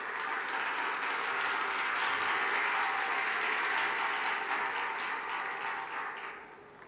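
A large audience at a Punjab government public event breaks into loud, dense applause that holds steady for several seconds, then fades out at the end.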